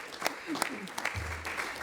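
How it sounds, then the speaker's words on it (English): Audience applause at a sister cities agreement signing ceremony in Namibia, a brief, fairly faint patter of clapping with a few sharper claps and low background voices. "I would like to invite you for a second round of much stronger applause"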